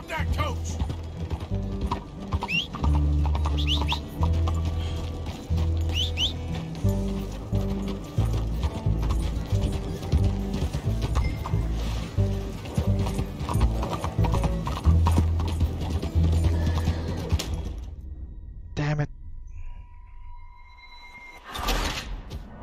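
Hooves of horses pulling a coach in Red Dead Redemption 2 clop steadily and loudly alongside creaking, rattling wheel and harness mechanisms, then the sound stops abruptly near the end with a brief neigh-like noise.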